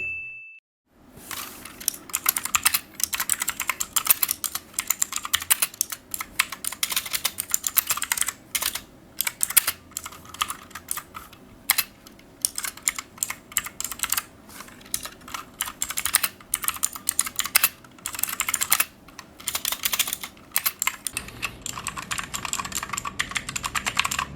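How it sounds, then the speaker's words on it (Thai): Fast typing on a Tsunami MK-61 wireless 60% mechanical keyboard with blue switches, a continuous stream of crisp, clicky keystrokes, close and loud, with no talking. "ผมก็จะพาทุกคนไปฟังเสียงของเจ้าคีย์บอร์ดตัวนี้กันก่อนเลยครับ"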